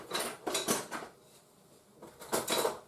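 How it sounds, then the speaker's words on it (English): Cadbury brownie mix is scooped into a brownie tin, with clattering scrapes and clinks of a utensil against the tin in two bursts separated by a brief quiet pause. "A brownie tin I usually use, and I'll just scoop all this in."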